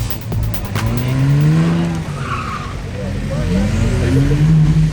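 A BMW 535i and an Audi RS3 at a drag race, engines revving and rising in pitch as the cars pull away, with an announcer talking over the sound.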